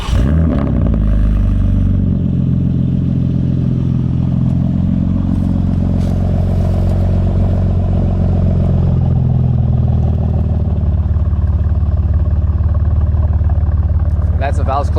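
A modified Le Mans Blue BMW G82 M4 starts up and idles with a deep, loud engine rumble, swelling in revs, then settling back, with people talking close by over the engine.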